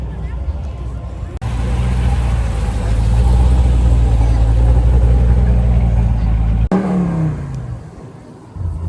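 A car engine revs and accelerates close by as vehicles drive out of a car show, a steady loud roar that cuts off abruptly, with people talking over it.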